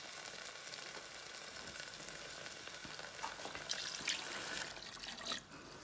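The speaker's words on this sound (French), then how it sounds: "Alors, je vais mettre à hauteur l'eau." Water poured into a pot of beef braciole cooking on the stove, a soft continuous hiss and splashing gurgle with brief trickling and bubbling toward the end, close but quiet, no one speaking.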